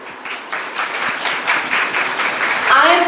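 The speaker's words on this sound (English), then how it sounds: "So a round of applause for the organizers of this program." Audience applause for the organizers at a women's degree college annual function: steady clapping from many hands in a hall, moderately loud and sustained, with a voice starting to speak near the end.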